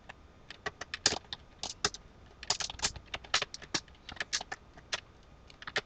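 Fast typing on a computer keyboard while writing HTML: dense, crisp key clicks in quick irregular runs, close and clear against a quiet background, no voices.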